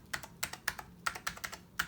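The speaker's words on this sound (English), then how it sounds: "So anyway, let's try typing." Keys clack on a compact Macintosh Color Classic keyboard in quick, uneven bursts of close, crisp keystrokes, with no one talking.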